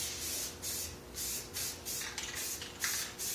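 Spray paint misted in light coats onto a cyclekart wheel disc, a series of short hissing bursts in a loose repeating rhythm, close and moderately loud, with no voices.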